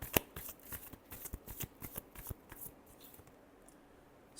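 Tarot cards being shuffled by hand in a quick riffle, a run of sharp crisp flutters that are loud at first and then thin out and fade toward the end, with no talk over them.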